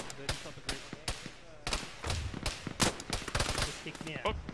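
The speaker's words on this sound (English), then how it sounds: "Oh, they're shooting at us." Arma 3 firefight in a ShackTac session: sharp, loud gunshots crack in irregular single shots and quick bursts, some close and punchy, others more distant, with voices talking underneath.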